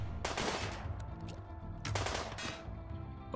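Bursts of rapid gunfire in the video game RimWorld crackle over a steady background rumble, two main volleys with scattered shots between.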